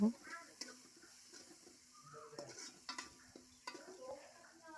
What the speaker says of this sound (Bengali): তারপর একটু ধনিয়া গুঁড়ো, জিরের গুঁড়ো দিয়ে এখন নাড়া দিয়ে দিব।